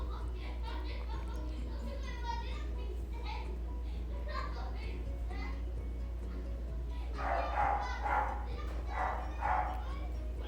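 Dogs bark and yip beside children's voices near a large banana plantation along a road between Tagum City and Pantukan, heard over a steady low engine and road hum, with the voices swelling louder toward the end.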